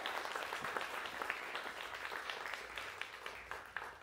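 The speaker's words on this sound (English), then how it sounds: "one more round of applause for our wonderful performers" An audience at a freshman welcome day claps for the stage performers, a fairly quiet but steady wash of many hands with scattered sharper claps, no talking over it.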